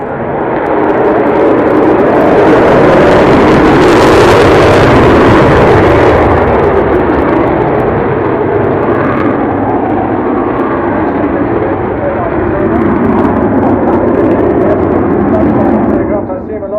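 Avro Vulcan bomber XH558 flying at an air show, a loud, sustained jet engine roar filling the whole stretch, swelling and easing slightly as it passes, with a commentator talking over it.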